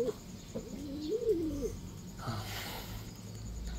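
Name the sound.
pigeon cooing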